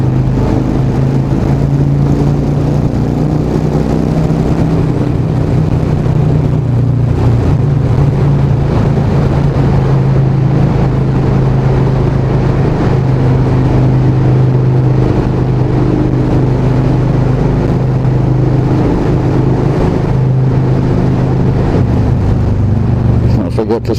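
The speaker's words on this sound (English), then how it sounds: "Like a rock concert in here when you're going for motorbikes" A motorcycle engine roars steadily and loudly throughout in a tunnel near Antalya, its low exhaust drone echoing, with no clear breaks.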